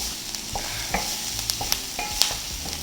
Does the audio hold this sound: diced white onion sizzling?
yes